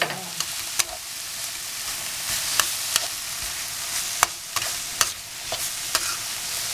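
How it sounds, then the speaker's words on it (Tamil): Tomatoes frying in a pan for veg kothu parotta hiss with a steady sizzle, punctuated by regular sharp clinks and scrapes of a spatula stirring against the metal, close and alone. "டொமேட்டோ கொஞ்சம் வேகட்டும், வேகிற வரைக்கும் கிண்டணும்"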